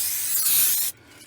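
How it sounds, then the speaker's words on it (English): Aerosol brake cleaner hisses in one sustained burst onto the rear brake rotors of a Silverado, Yukon or Escalade, a loud close spray lasting under a second before cutting off sharply. "I'm spraying them off with some brake cleaner."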